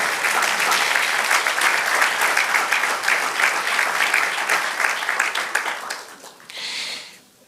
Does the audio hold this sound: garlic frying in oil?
no